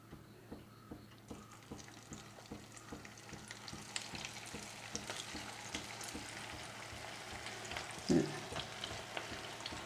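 Potato pieces fry in hot oil in a pan, a soft continuous sizzle with a regular pulsing pattern and a short louder crackle near the end, quiet overall and without talk.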